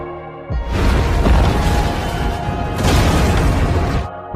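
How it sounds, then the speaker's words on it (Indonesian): A big explosion from a war film booms and rumbles, a loud blast that swells twice over a few seconds before cutting off. "Sementara Mayor Van harus berakhir dengan ledakan yang sudah dipersiapkan oleh pasukan Kapten Amir."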